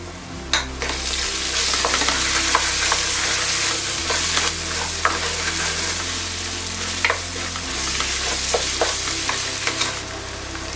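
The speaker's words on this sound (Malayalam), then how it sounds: "ഇനി നമുക്ക് മഞ്ഞൾപ്പൊടി ചേർത്തിളക്കാം" Turmeric powder being stirred into ginger garlic paste frying in a pan for mutton biryani, a steady close sizzle with scattered scraping clicks of a spoon against the pan, no talk.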